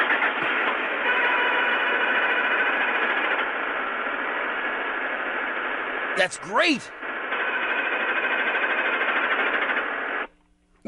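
A car's rapid rat-a-tat-tat engine noise plays as a steady, buzzing mechanical rattle, interrupted midway by a brief burst of voice before resuming, then cutting off near the end.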